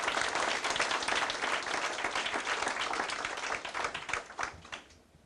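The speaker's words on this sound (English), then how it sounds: "let's give him another round of applause." An audience at an education commission meeting gives a round of applause, a dense wash of many hands clapping that holds steady for about five seconds, then thins out and fades at the end.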